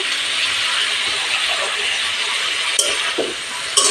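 Thin strips of bitter gourd frying in a pan with salt and turmeric, giving a steady close sizzle and hiss with a couple of sharp clinks of stirring.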